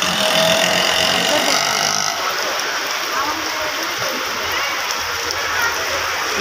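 Rain falling outdoors in a steady, dense hiss of drops pattering on surfaces, close and fairly loud, continuous for about six seconds with no speech heard.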